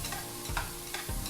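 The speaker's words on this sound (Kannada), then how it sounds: "ಸ್ವಲ್ಪ ಇವಾಗ ಆನಿಯನ್ ಹಾಕ್ತಾಯಿದ್ದೀನಿ. ಹುರಿಯೋಣ ಫುಲ್ ಇದನ್ನು." Chopped onions frying in a pan for Sindhi chicken pulav, a steady close sizzle with a few soft stirring scrapes, no talk.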